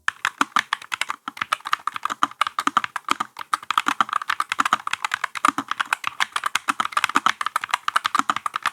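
Fast, steady typing on a mechanical keyboard with brown 2.0 switches, close up: a dense stream of crisp key clicks and clacks with no pauses or voices.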